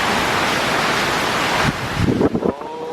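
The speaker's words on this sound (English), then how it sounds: "the wind" Strong wind during a heavy rainstorm, roaring as a loud, dense rush close to the microphone, with gusty swells and rattling bursts near the end; no one speaks.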